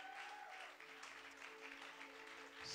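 Applause from a church congregation fills the space as a broad, steady wash of clapping. It rises and falls slightly and swells again at the end.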